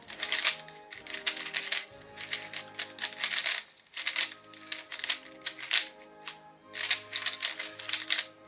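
A speedcube lubricated with Cube Sauce being turned quickly, giving dense rapid clicking and clacking in fast bursts with brief pauses, close up, with no talking.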